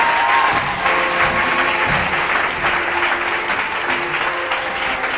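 A church congregation claps together in sustained, dense applause during a French-language service, loud and continuous throughout with a faint voice underneath.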